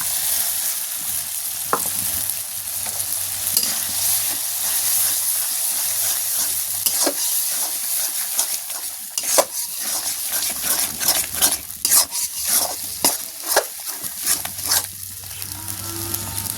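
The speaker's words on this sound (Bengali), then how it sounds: "এটা দিয়েও খুব ভালোভাবে কষিয়ে নেব নেড়ে চেড়ে" Spice masala with coconut paste frying for a duck curry, a steady sizzle in the pan broken by repeated scraping strokes of a spatula, clustered more densely in the second half, close and alone.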